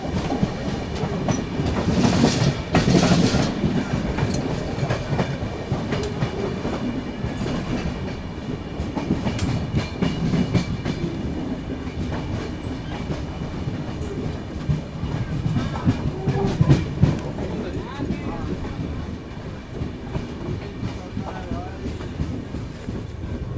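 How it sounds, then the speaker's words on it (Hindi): An express train rolls into the platform at Muzaffarpur Junction, a steady close rumble with wheel clatter and rail noise running throughout. "इस वक्त हमारी ट्रेन आ चुकी है मुजफ्फरपुर जंक्शन रेलवे स्टेशन के प्लेटफॉर्म नंबर 2 पे।"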